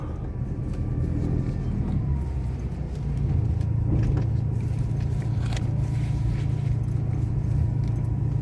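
A car is driven up by its owner near where a Kubota SR-J3 is being delivered to a customer in Kumphawapi, its engine rumbling steadily and growing fuller and louder as it draws close, with faint rattles over the drone.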